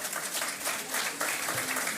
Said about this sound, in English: Please give the president another round of applause.